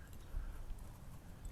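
Hoofbeats of a big horse walking in a riding arena, soft low thuds spread through the clip at close range with faint background noise.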